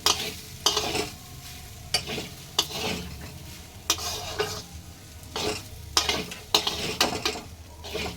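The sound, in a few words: stirring sago pulao with tomato in a pan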